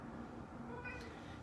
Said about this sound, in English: Oh, and here's our cat Nico.